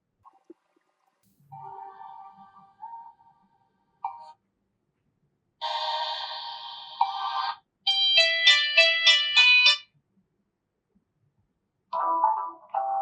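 A series of short electronic ringtone snippets from a Poco phone plays one after another, bright tonal melodies and chirps separated by silent gaps, fairly quiet and close.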